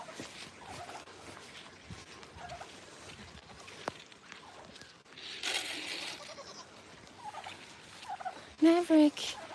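Turkeys gobbling nearby, with a loud burst of rapid gobbles near the end over quieter rustling and faint clucks.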